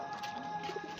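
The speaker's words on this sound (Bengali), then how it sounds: "দেখেন ঘরের থেকে সব কবুতর লেবে গেছে।" Pigeons cooing indoors in the evening, a group that has come down from their house to feed; soft, low coos rise near the end over a steady faint background hum.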